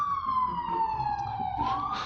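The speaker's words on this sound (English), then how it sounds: "Sorry about the the police siren in the distance." A police siren wails in a city, a single long descending tone that then rises again, heard at a moderate distance over low traffic rumble.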